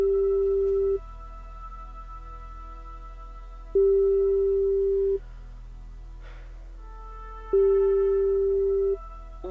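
Phone ringback in a horror video game, a steady electronic tone repeating three times at even intervals with silent gaps between, faint and alone over a low background hum.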